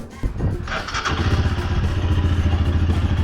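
A Royal Enfield Scram 411 motorcycle engine cranks with a few clattering thumps, then catches and settles into a loud, steady, throbbing idle close by.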